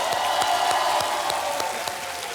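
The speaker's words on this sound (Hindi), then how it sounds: "जोरदार तालियां बज जाएं सोनिया जी के लिए।" Audience applause on a Kaun Banega Crorepati-style game show set: steady, dense clapping fills the whole stretch at an even level, with no talk over it.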